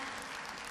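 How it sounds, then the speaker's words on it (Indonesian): Audience applause at an Indonesian stock-investing talk, a brief, faint, dense burst of clapping. "Kita berikan tepuk tangan untuk Ibu Melisa yang mau bertanya."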